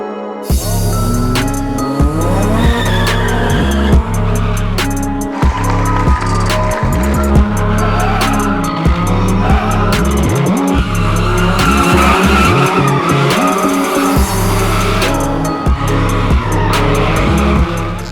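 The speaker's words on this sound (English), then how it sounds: "My plan out there was to go shred my tires to the rim like I always do." A drift car skids and squeals its tires at the Hoonigan Burn Yard, a continuous loud screech over roaring engine noise that never lets up.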